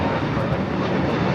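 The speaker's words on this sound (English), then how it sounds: "This is Spirit Airlines 2070 taking off to Newark on the A321neo" A Spirit Airlines Airbus A321neo, flight 2070 bound for Newark, roars steadily on takeoff at LAX, a loud, broad, continuous engine rush with no break.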